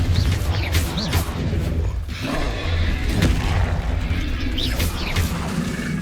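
Explosion spells go off in the wizarding video game Hogwarts Legacy, heavy booms and crashes repeating every second or two over a dense rumbling battle backdrop.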